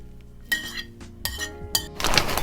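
Filling ingredients tipped into a bowl for a baked Japanese pumpkin and cheese dish, with several close clinks and knocks of utensils against the dish and a busier scraping, pouring rustle near the end.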